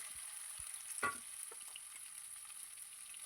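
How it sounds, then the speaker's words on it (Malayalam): Garlic and crushed bird's eye chilies sauté in a pan, a faint steady sizzle with a few soft stirring scrapes of a utensil, no voices over it. "നല്ല പോലെ ഒന്ന് ഇത് വയറ്റിയെടുക്കണം"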